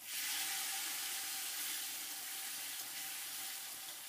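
Masala paste of chili, onion, garlic, ground coriander and ground cumin frying in a pan, a steady hiss of bright sizzle that stays loud and even throughout with no pauses.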